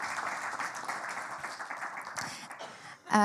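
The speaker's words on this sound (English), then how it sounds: "Big applause for Mona." An audience at a health tech startup pitch finals applauds, with a moderate wash of many hands clapping steadily that fades slightly, then a louder burst of sound right at the end.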